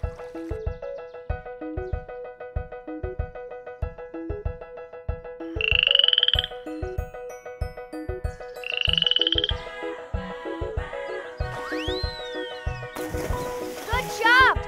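Cartoon frog croaks repeatedly in a steady rhythmic pattern, bright and close, with speech in the background and other whistling cartoon effects near the end.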